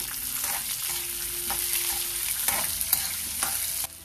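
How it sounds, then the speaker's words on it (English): Onions, green chilies and garlic sauté in a pan, a continuous loud sizzle with repeated spatula scrapes and stirs running throughout until it cuts off near the end. "Now we'll add these onions and saute these properly till they are done."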